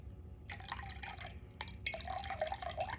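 Warm tap water runs and splashes into a bowl sitting on a kitchen scale while sourdough is being mixed, a faint trickling stream with small drips, close by and unaccompanied by talk.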